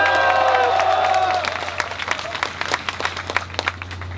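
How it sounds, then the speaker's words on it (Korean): Crowd applause at a rally of national postal delivery workers, loud at first with some cheering and a faint melodic tone underneath, then thinning into scattered, uneven claps. "임찬 박수 부탁드리겠습니다."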